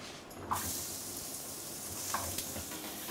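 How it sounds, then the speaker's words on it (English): Chopped vegetables hiss and crackle in a hot oiled pan that has just seared rabbit, a steady broadband sizzle with a couple of brief sharper spits as the veg lands and settles. "into the same pan, I'm gonna just chuck all this veg"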